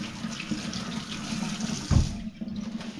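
Tap water runs steadily into a sink while a cleaned snapper is rinsed, a soft continuous splashing with one brief louder gush near the end.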